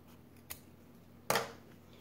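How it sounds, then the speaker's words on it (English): Sewing scissors trimming a fabric corner to reduce bulk: a faint snip, then one louder crisp cut close by, in a quiet room with no speech. "I've got my scissors. Let's trim this corner and this extra right here to reduce the bulk."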